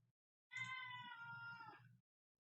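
A crazy pet kitty gives one drawn-out meow lasting over a second, close and clear in an otherwise quiet room, with a brief soft sound just before it.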